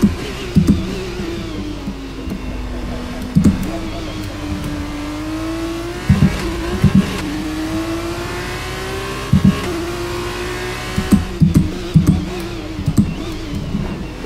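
An F2 race car in the F1 23 video game screams around the Baku street circuit, its engine note rising steadily through each gear with sharp clicks at the gear changes, loud and close with no voices.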